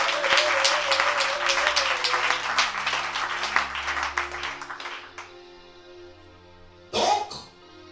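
A church congregation bursts into loud, dense applause and cheering to acclaim the Lord, sustained for about five seconds before dying away, followed by a brief shout.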